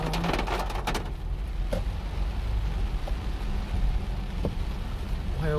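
Rain falls outside in a steady, soft patter, with a few sharper drips and knocks scattered through it and no talking.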